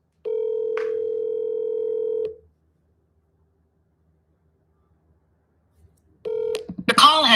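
A telephone call is dialed: a close, steady dial tone with a quick keypad beep runs for about two seconds, silence follows, then the tone returns briefly before a voice begins.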